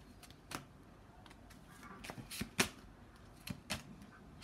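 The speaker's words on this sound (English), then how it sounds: "then I'll shuffle the rest of the deck" Tarot cards being shuffled in several quick riffling bursts, close and fairly quiet, with short pauses between them.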